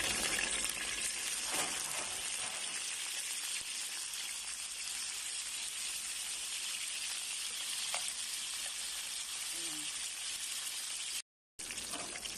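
Broccoli frying in a pan as part of an Indomie noodles and mixed vegetables breakfast, giving a steady, loud sizzle that runs unbroken with faint stirring clatter and no talking.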